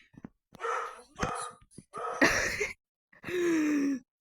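Dogs passing by give a few scattered barks and whimpering, uneven bursts with gaps between them, one ending in a drawn-out whine.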